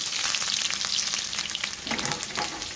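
Mustard seeds, cumin and onions sizzle and crackle in hot oil in a pan while being stirred, a steady close frying hiss throughout with no talk.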